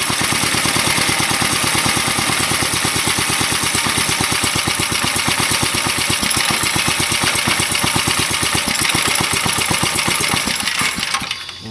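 Small go-kart engine running steadily at a fast, even putter, loud and close, with no voices, then cutting out abruptly at the very end.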